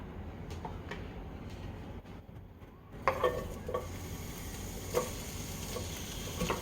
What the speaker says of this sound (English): So I got my oil cooking. I'm using this olive oil right here.